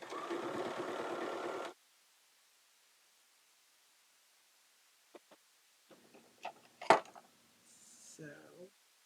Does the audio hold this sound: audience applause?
no